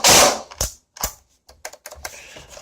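Upgraded Umarex UMP airsoft gun cycling in burst mode: a loud close shot followed by a run of sharp mechanical clicks and clacks in quick uneven succession, with no voices.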